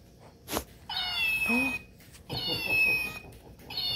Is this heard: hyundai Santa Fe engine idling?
no